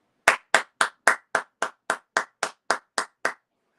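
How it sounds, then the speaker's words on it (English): Twelve crisp hand claps in a steady, even rhythm, loud and close, with no other sound around them. "Why are you clapping"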